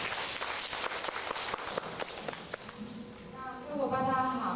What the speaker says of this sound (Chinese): 那我们掌声欢迎小慧玲。